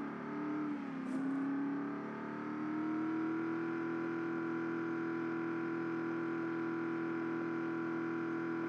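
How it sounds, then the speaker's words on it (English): A struggling car engine in the Project Zomboid video game: a steady, loud, strained drone that dips briefly near the start and then holds a high, even revving pitch without shifting, with no talking. "This car kind of sounds like it's struggling a little bit."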